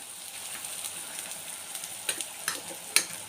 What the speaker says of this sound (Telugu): కూర వచ్చేసి ఇలా వేయించుకున్న తర్వాత